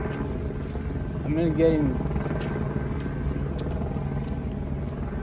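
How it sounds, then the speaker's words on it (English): A helicopter drones steadily in a park forest, giving a continuous low rotor rumble a short way off while someone talks briefly over it. "As you can hear that. Helicopters is making sure"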